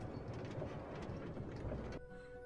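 A Minecraft minecart rolls along rails into a station, a rumbling, clattering ride that abruptly stops, leaving a quiet tonal hum.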